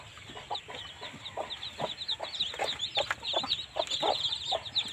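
Backyard chickens in a rural village cluck and chatter steadily, with many overlapping calls from a flock nearby over a constant outdoor background and no talking.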